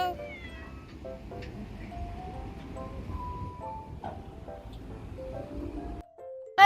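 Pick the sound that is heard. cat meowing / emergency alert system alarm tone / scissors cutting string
cat meowing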